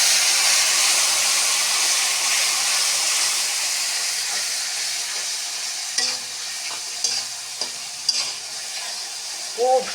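Whole spices (garam masala, cardamom, cinnamon, rose leaves and black pepper) frying in a pan in a home kitchen give a steady, close hiss, with a few sharp stirring clinks and scrapes near the end.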